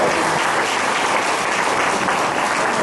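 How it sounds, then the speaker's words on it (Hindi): Audience applause at a meeting in India, a steady wash of many hands clapping, fairly loud and continuous with no voice on top. "वो चंद्रू यहाँ पे उसको ताली बजा"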